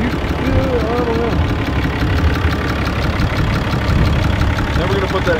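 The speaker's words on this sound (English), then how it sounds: "So the truck's running great." A diesel truck engine with the emissions system deleted idles steadily up close with a low, knocking rumble throughout; a voice speaks faintly over it.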